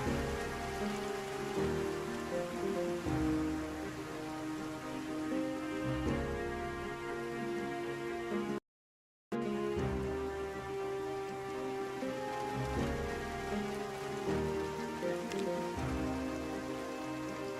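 Steady rain falls in the survival game Project Zomboid, a continuous wash of drops under sustained background music, cut by a brief moment of silence midway.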